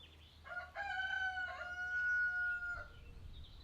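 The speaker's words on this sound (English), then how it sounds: "Can you hear the cockerel there?" A cockerel crows once, a clear drawn-out cock-a-doodle-doo at moderate distance over a low steady background hum, with no talking.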